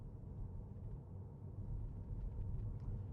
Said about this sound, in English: now you hear the engine's revving, but it's not getting to just drive the wheels.